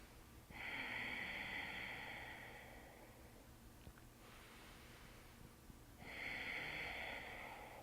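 Two loud, steady nasal exhales during a yoga breathing exercise, each a couple of seconds long with a hissing, airy tone, separated by a quieter breath, close up with no talking.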